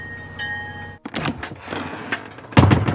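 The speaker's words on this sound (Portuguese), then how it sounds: "As portas se abrem." Train doors opening at a station: a faint tone fades, then a sudden pneumatic hiss and rumbling slide, followed by clunks and a final heavy thud as the doors settle open, close and moderately loud.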